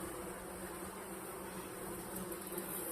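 Honeybees buzz steadily inside an opened hive during a beekeeper's inspection, a continuous soft drone close by with no talk over it.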